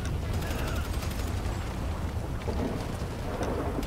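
Rain and thunder in a Grand Theft Auto V game world: a dense, continuous rain wash with a deep rumbling underneath, steady throughout and fairly loud, with no voices.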